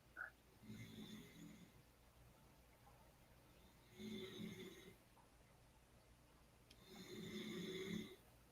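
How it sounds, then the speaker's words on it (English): A person snores in the background, three slow, faint rasping breaths spaced a few seconds apart in a quiet room. "There's somebody snoring."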